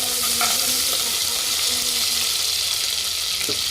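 Garlic paste and spices are stirred in a hot frying pan, giving a loud steady sizzle with occasional scraping clicks of the spoon against the pan.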